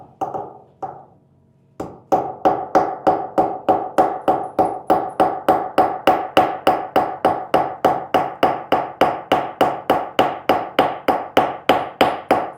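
Steady hammer blows on silver at an 18th-century silversmith's shop, after a couple of tentative taps settling into a fast, even rhythm of about thirty sharp metallic strikes, close and loud with no talk.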